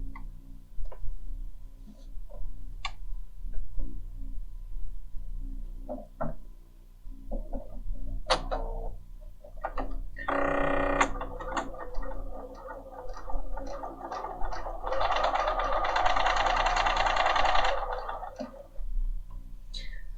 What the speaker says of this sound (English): we're going to start with a standard straight stitch